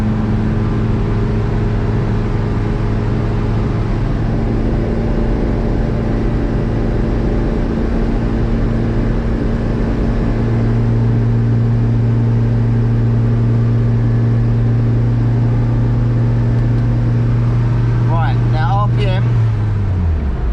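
A car engine on a dyno holds a steady high idle at 3,500 RPM, its droning hum shifting pitch once midway, then cutting off near the end.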